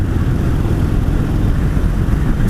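A Harley-Davidson Sportster 883 Superlow engine drones steadily while riding at speed, a dense continuous rumble mixed with wind noise and no talk.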